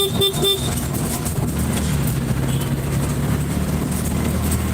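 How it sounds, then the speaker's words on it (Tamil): Busy Chennai city road traffic on the way from KK Nagar to Alapakkam rumbles steadily, with a burst of short, repeated car horn toots at the start over a dense hum of engines. "இப்போவே வந்து டிராஃபிக் இருக்குது பாருங்கள் நிறைய டிராஃபிக் இருக்குது"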